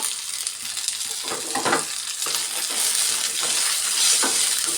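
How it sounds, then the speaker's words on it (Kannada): Coconut, coriander, cinnamon, cloves and mint fry in a pan for a village-style egg sambar, a steady close sizzle with occasional stirring scrapes and clinks, no talk. "ನೋಡಿ ಧನಿಯಾನೂ ಚೆನ್ನಾಗಿ ಫ್ರೈ ಆಗಿದೆ."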